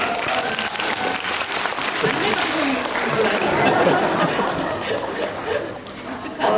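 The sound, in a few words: audience applause for actors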